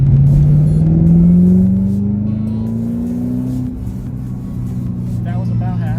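A 2011 Ford Shelby GT500 accelerates at under half throttle, its steady engine drone rising gradually in pitch over several seconds, loud and close from inside the car, with a brief voice near the end.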